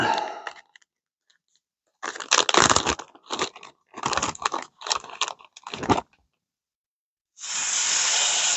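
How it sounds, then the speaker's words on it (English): Hissing, crackling bursts of food sizzling in a hot pan at an overnight campsite, coming in uneven waves with short pauses, then a steady loud sizzle near the end. "Listen to that sizzle."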